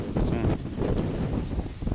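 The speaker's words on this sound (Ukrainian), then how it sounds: "вітер сильний" Strong gusting wind buffets the microphone in a loud, continuous roar, with faint background sounds beneath.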